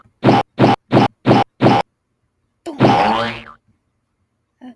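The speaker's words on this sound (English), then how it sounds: "I'm gonna do big boing" A cartoon 'big boing' effect in animation software, played as five quick, identical springy boings in a row, then one longer, wobbling boing after a short pause, loud and with no talk.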